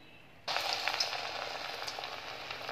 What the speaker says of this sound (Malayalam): ചൂടായ എണ്ണയിലേക്ക് ഇട്ടിട്ടുണ്ട്.